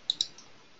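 A computer mouse gives two quick, crisp clicks close together, light and close, followed by near silence.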